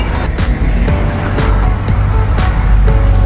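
Road traffic at a red light in Hounslow, UK, with cars passing close by in a steady loud rush, engines and tyres swelling and fading over a constant low rumble.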